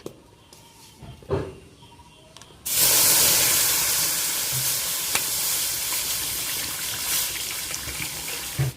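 Milk poured into a hot wok for a mango sweet sizzles loudly and steadily after a couple of quiet seconds, a continuous hissing bubbling sound close by with no talk.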